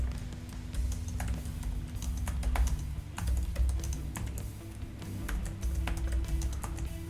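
Rapid typing on a computer keyboard, a dense run of close, crisp key taps in uneven bursts over a steady low hum, with no talking.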